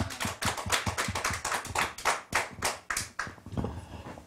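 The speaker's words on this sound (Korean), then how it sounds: "주님께 영광의 박수 올리며 마치겠습니다." A small audience at a Korean church theology lecture claps to give glory at the close, with a run of sharp, fairly close hand claps in an uneven rhythm that thins out toward the end.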